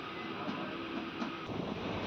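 Express train pulling out of Khammam railway station on the Dhone to Guntur run, a steady low rumble and rattle heard from on board, even and continuous with faint wind noise.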